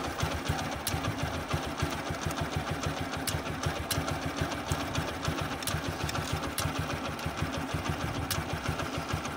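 A BS6 motorcycle engine idles alone at close range, a steady fast ticking putter whose RPM drifts slightly up and down throughout.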